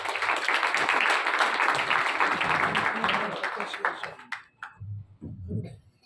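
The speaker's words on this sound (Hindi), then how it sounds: "तालियां बजाओ।" An audience at a community gathering claps steadily for several seconds. The applause fades out and is followed by a few low murmurs of talk.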